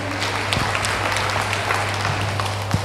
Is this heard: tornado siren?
no